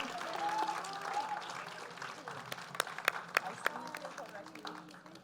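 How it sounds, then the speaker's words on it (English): Scattered audience applause at a masterclass talk event, a sparse patter of claps swelling briefly in the middle, fairly quiet and distant, with murmuring voices around it. "With a big round of applause, let's welcome Ms. Manisha Koirala."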